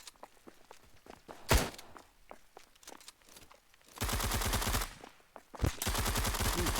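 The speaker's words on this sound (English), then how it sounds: "Takes a shot." Gunfire in a video game match, with a sharp single shot followed by long bursts of rapid automatic fire amid lighter footstep-like thuds.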